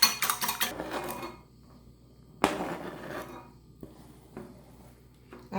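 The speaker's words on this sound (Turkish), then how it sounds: "Yumurtayla tuzu güzelce çırpıyoruz arkadaşlar." Eggs and salt being whisked in a bowl, heard as bursts of brisk clinking and scraping against the bowl, loud at first, then pausing and returning in shorter rattling bouts with quiet gaps between.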